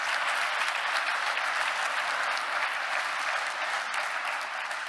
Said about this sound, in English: Yes, you are allowed to clap for that.